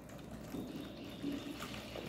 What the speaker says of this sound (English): to monitor the water overflow, we have to give some additional water here